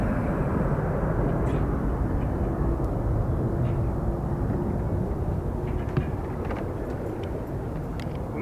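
A jet departs Dublin Airport, its broad engine rumble steady and fairly close, with faint voices in the background.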